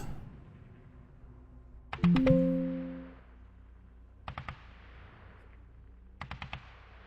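Machine gun fire in a World War II airborne war game: short sharp bursts of three or four rapid shots repeat at intervals, with one heavier blast and a booming report between them, fairly near.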